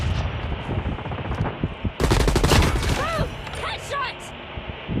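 Rapid gunfire in a first-person shooter, with a loud burst of automatic shots in the middle over busy game sounds and talk.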